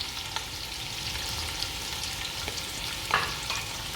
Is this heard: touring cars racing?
no